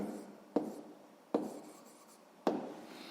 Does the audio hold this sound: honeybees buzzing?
no